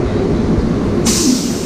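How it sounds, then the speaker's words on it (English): Plane train running between concourses at Hartsfield-Jackson airport, a steady loud rumble of the people mover in motion with a brighter hiss rising partway through, no voices. "Welcome aboard the plane train."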